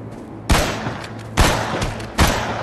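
Gunfire in the zombie survival game Dawn of Zombies Survival: three loud, close single shots at roughly even spacing, each with a short echoing tail over a low background hum, no talking.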